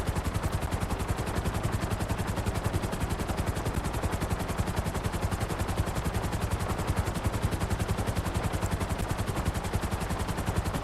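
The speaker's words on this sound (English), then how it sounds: "get your stolen helicopter out of the way" Helicopter in GTA 5 Online, a steady rapid rotor chop with dense, even blade thumps running continuously and loud throughout, no talk over it.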